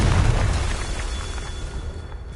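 A Confringo blasting spell explodes in Hogwarts Legacy, a loud booming burst at the start that rumbles and fades away over a couple of seconds with no talk.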